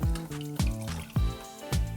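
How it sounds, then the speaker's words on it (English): Spanish vermouth poured into a Negroni-family cocktail glass, a close liquid trickle and dribble with several soft splashing pulses about every half second. "And the same Spanish vermouth, also 60 ml or 2 ounces."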